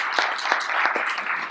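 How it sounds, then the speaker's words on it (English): A fireside-chat audience applauds, a steady wash of clapping with a few sharper individual claps standing out. "a round of applause again"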